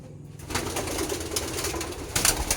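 Pigeons coo in a low, soft, throaty murmur that runs steadily throughout, with a brief flutter of louder activity near the end, at close range and with no voices.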